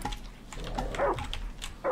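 A dog yelps and barks in short bursts, fairly close, with a few sharp high calls spread across the clip over a low background rumble.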